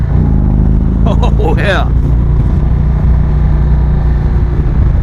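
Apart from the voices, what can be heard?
Indian Springfield motorcycle riding in second gear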